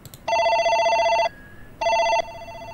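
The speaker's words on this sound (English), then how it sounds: "And there is a phone ringing." An old-style telephone rings in the horror game Still Ridge, two loud electronic bell bursts, one long and one shorter, separated by a brief quiet gap with no one speaking.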